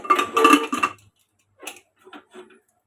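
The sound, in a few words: closing lid on pressure cooker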